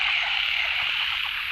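Frogs croaking steadily at dawn in wet fields, a dense continuous chorus of many calls close by with no talk over it.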